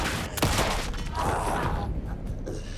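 Shotgun blasts in the video game Alan Wake 2: a sharp, loud blast early on followed by a further heavy burst and clattering, with game noise filling the rest.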